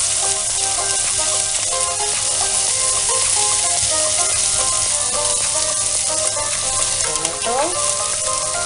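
Squid stir-frying with chili, shallots, garlic and onion gives a steady, close sizzle of frying throughout, with stirring and clinking against the pan and no talk.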